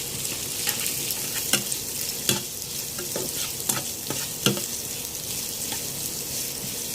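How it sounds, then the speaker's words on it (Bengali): Chopped chillies, with onions, sizzle steadily in a frying pan while a spoon stirs them, its scrapes and knocks landing in irregular sharp taps over the continuous close crackle, as for a prawn stir-fry. "4টি মরিচ কুচি দেব। এগুলো নাড়তে থাকবো।"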